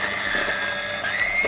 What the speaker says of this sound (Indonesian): Habis itu dilanjut dikocok lagi biar rata.